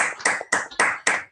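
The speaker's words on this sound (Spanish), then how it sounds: "le damos un aplauso a Susana" A few people clap for Susana after her talk, five crisp, evenly spaced claps close to the microphone with short gaps between them, forming a small, sparse round rather than a full crowd.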